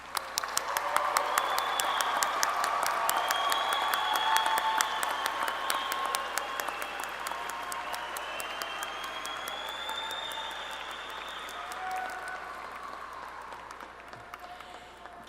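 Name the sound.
applause for graduates at a commencement ceremony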